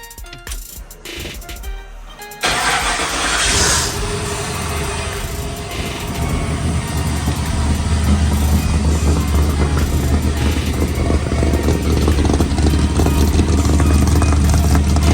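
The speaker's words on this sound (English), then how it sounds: "let me crank it up for y'all real quick" An LS-swapped car engine cranks briefly and catches, then settles into a loud, steady running rumble that builds slightly and carries on alone, close by.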